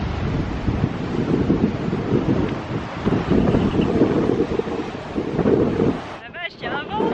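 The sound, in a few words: strong wind blowing on the coast at Hell's Gate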